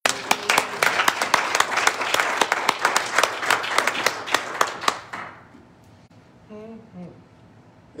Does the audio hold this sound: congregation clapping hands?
yes